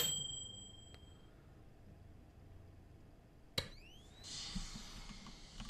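A bell rings again in the space station game Space Station 13: a fading ding at the start, then one sharp strike midway followed by a faint mixed hiss and low background sounds.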